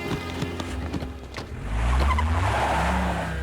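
A car speeds along with a rising engine roar and a squeal of tires, loud and close, building to a steady drone in the second half.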